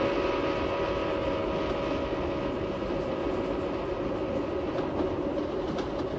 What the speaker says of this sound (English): if you're standing alongside the track when the train passes, you hear that familiar shift in pitch, the Doppler shift